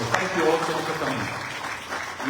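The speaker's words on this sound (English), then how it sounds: "Keep them a lovely round of applause." Temple congregation at a Sanatan Dharma mandir in Houston claps for the children, a steady wash of applause filling the hall across the whole stretch with a faint murmur of voices underneath.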